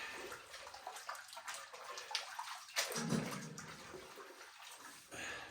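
Water splashing and swirling while rinsing a gold pan in a dry creek bed, close and fairly quiet, with uneven sloshing pulses and a fuller wash near the middle.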